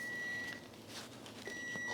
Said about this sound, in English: Oh, there's the buzzer. Our cupcakes are done.